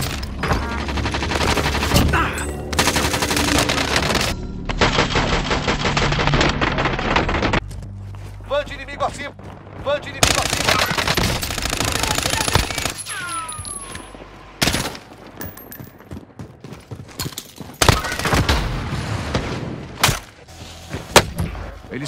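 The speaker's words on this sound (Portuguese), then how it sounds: "Eles estão atirando em mim." Call of Duty match gunfire: rapid bursts of automatic fire and sharp single shots crackle loudly in dense clusters, mixed with explosions and game effects, while a voice speaks Portuguese over the battle.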